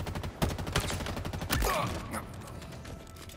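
Rapid burst fire from an assault rifle in the video game Halo Infinite, a loud, dense rattle of shots over about two seconds that then tails off.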